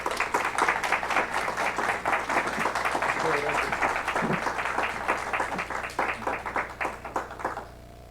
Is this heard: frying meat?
no